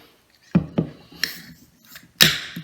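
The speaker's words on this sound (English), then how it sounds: "let's go ahead and crack this top and we'll see what we get" A bottle of Righteous beer from Rochester Mills Beer Company has its cap cracked open, with a few sharp clicks and taps and then a bright pop-and-hiss burst at the end, close up.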